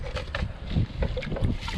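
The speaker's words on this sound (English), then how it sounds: "Today's a windy day." Gusty wind buffeting the microphone outdoors during gold sieving with a 1/4 inch sieve, uneven rumbling blasts rising and falling over a short stretch, fairly faint with no speech.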